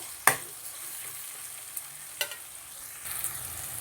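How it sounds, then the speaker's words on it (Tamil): Chopped green chillies and ginger sauté in a hot pan for potato poori masala, a soft steady sizzle broken by a few sharp scrapes and clicks of a spoon stirring against the pan, with no voices. "இதையும் சேர்த்து நல்லா நம்ம வதக்கி விட்டுக்கலாம்"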